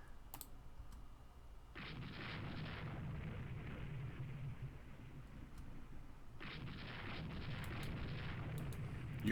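Naval gunfire in the video game Rule the Waves II: two long rumbling salvo bursts, each lasting several seconds, set against a low background hum, with faint clicks between them and no voices.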